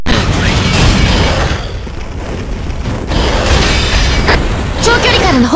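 Long-range artillery shells landing in the God Eater 2 action game, a rapid series of heavy booming blasts and rumbling bursts dense throughout the short stretch, loud and close, mixed with game effects.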